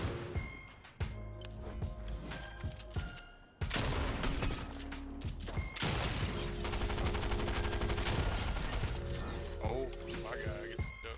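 Rifle gunfire in Fortnite, rapid bursts of cracking shots in quick succession, loud and close, over game sounds, with the firing growing denser in the second half.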